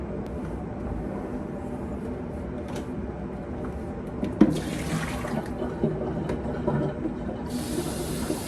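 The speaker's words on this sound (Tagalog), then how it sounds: "Pakulong muna ako ng tubig para makapag-tea ako." Tap water runs steadily into a kettle or pot in a home kitchen, filling it to boil for tea, as a continuous rushing stream with a brief clatter midway and a brighter hiss near the end.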